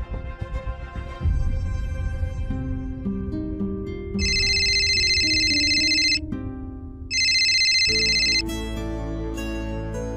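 Telephone ringtone during a call, a loud electronic melody of sustained tones with bright high chimes that repeat in two bursts over a low musical backing, with no talk.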